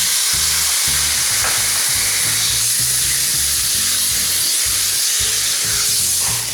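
Crushed garlic, ginger and tomatoes fry loudly in a pan for a dal makhani, a strong, continuous close sizzle and hiss with a low rhythmic hum underneath and no voices.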